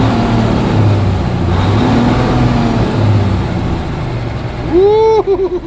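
A 1978 Oshkosh truck engine runs loud and steady with a low rumble, then revs sharply near the end in a rising, then falling surge.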